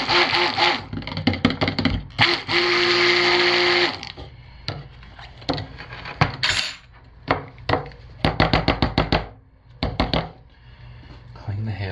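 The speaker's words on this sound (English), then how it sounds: "Give each of these a quick buzz with a stick blender to break up these particles, disperse everything," A stick blender buzzes in steady bursts, one long run near the start and then many short pulses, close and fairly loud, broken by knocks and clatter of a container.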